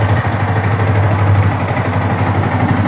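A 2022 Yamaha R15 V4 motorcycle with 18,000 km idles close by, a steady low even engine beat with no talk.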